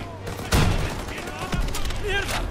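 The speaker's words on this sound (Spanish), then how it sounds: "¡Ametralladoras en las escaleras!" Machine-gun fire in Call of Duty WWII bursts out loud and close in rapid rattling volleys, mixed with shouting voices and battle noise.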